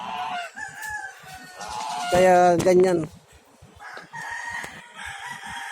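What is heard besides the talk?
rooster crowing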